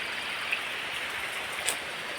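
Steady rain falling, a constant soft hiss with no voices, holding even throughout.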